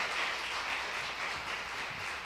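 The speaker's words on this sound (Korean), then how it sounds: "다시 한번 하나님께 영광의 박수 올려드리겠습니다" A church congregation at a midweek worship gathering applauds together in praise of God, a dense, even wash of clapping held steady for about two seconds.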